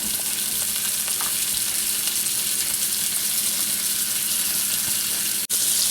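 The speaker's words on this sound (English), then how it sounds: "we can hear them sizzling a little bit now" Bacon-wrapped stuffed chicken thighs sizzle and crackle steadily in a hot pan, a continuous loud frying hiss heard up close, with a brief dropout near the end.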